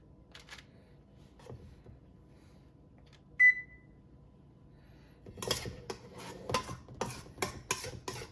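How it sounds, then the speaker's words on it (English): An oven gives one short clear beep in a home kitchen, followed by a run of clattering dish and tray sounds as cookies are handled. "My oven likes to beep at me."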